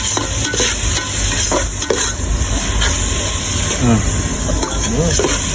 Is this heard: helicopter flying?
no